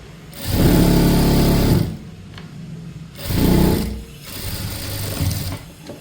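A sewing machine stitches a churidar pant hem in two loud, close bursts of rapid mechanical whirring separated by quieter pauses, then a lighter, lower run at the end.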